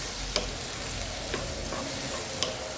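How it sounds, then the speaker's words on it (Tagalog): Okra and egg stirred together in a hot frying pan: a steady, close sizzle of frying with a few light scrapes and taps of the utensil against the pan, no talking. "I-mix yung okra at saka yung egg."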